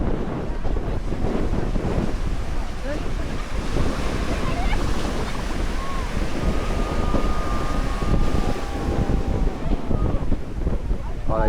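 Ocean surf rolls and breaks steadily along a beach in Alleppey, Kerala, India, a continuous broadband wash mixed with wind buffeting the microphone, with faint voices in the background.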